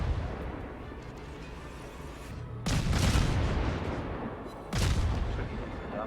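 Naval gunfire from a Tier V Soviet destroyer, Gnevny, in World of Warships, with a steady rumble of engine and sea broken by two loud, booming salvos a couple of seconds apart.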